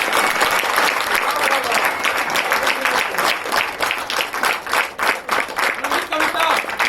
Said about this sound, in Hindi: इसलिए एक बार जोरदार तालियां इनके लिए बजा दें।